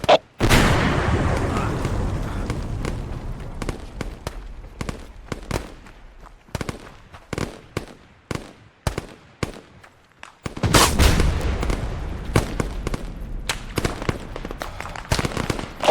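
Grenade explosion in a military shooter video game, a loud booming blast at the start followed by scattered gunfire cracks, then a second heavy explosion with more rapid shots around it.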